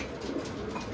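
Pigeons, just released in pairs, coo softly and steadily close by, a low continuous murmur with no talk over it.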